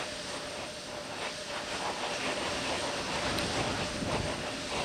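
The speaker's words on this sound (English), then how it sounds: "And the aero surfaces and the engines are being gimbaled at this time." Space Shuttle Atlantis on the pad before the STS-110 launch, its engines and aerodynamic control surfaces being gimbaled in a final check, giving a steady broadband roar with a faint whine that holds even throughout, with no voices.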